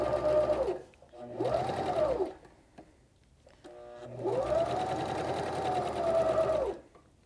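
A sewing machine stitches fabric close to the edge in three runs, a near, steady mechanical whir rising and settling each time, separated by short pauses.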